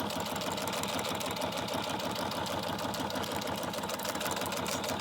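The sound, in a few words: sewing machine stitching a back stitch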